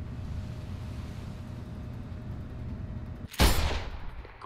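A sniper rifle shot in the video game Sniper Ghost Warrior 2 cracks out once, a sudden loud blast with a short rumbling tail, following a few seconds of low ambient water and wind hum.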